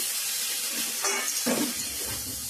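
Water poured into a pan of browned chicken curry hits hot masala with a sudden sizzling rush and splashing for about a second, then settles into a softer bubbling hiss.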